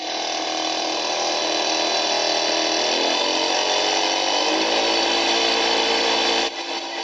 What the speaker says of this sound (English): The wider the pulse, the faster the motor is.